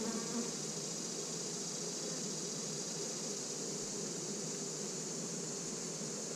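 Honey bees hum around an open hive box in a backyard apiary with a strongly laying queen. The buzzing is a dense, steady swarm drone, close and unbroken, with no talking.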